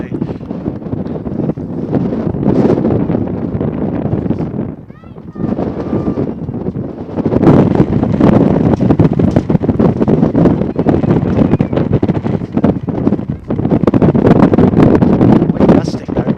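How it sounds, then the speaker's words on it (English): Strong, heavy wind gusts buffet the microphone at an outdoor high school soccer match, a continuous low roaring rumble that surges and drops, loud throughout with a brief lull near the middle and faint sideline voices underneath. "Wind gusting now pretty heavily."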